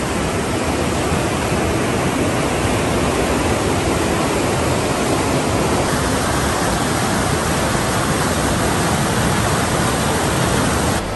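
Karga Nala, a fast stream of foaming milky-white water, roars in a dense, unbroken rush, loud and close with no pauses or voices.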